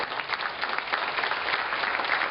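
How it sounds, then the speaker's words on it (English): An audience at a community parent event breaks into steady, sustained clapping for the children present, a dense wash of hands with no voices over it. "Let's give a round of applause to the children that are here today."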